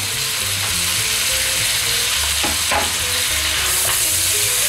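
Lamb navarin with tomato paste being stirred in a pot, a steady sizzle with scraping spoon strokes and a few clicks, close and continuous with no voices.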